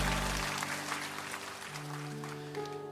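A church congregation applauds during a worship service, with a dense, even wash of clapping from many hands lasting a few seconds over sustained keyboard tones.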